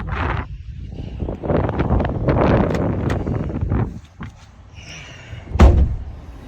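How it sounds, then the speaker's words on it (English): Gusting wind buffets the microphone in loud rumbling bursts, then eases, followed by a sharp thud near the end. "It is windy today."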